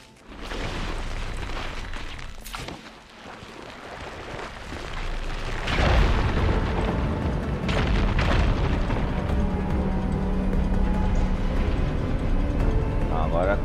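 A video game explosion: a deep, rumbling boom erupts midway and lingers as a heavy roar, with lighter clatter and falling signs and debris before and after.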